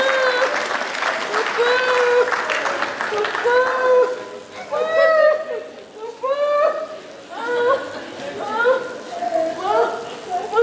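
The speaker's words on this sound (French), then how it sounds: "Nous pouvons l'encourager avec les applaudissements s'il vous plaît." Applause at a memorial tribute in Kinshasa for Remy Makenga Kabunda, as Arnaud Kabunda is called forward; steady clapping runs throughout under loud voices that sing or call out in drawn-out tones.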